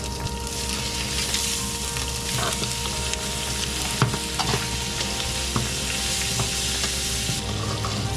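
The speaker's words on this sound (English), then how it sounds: "Fry the skin part in butter to make it crispy." Jack mackerel skin fries in butter in a pan, giving a steady, close, crackling sizzle with a few sharp pops and no talking.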